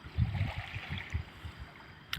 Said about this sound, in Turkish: O kadar güzel ki dalgaların sahile vuruşu.